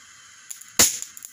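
A small piece of cobaltous azide detonates under indirect heat from below, giving one sharp, loud crack like a cap gun, preceded by a few faint ticks and followed by a brief fading hiss and small pops.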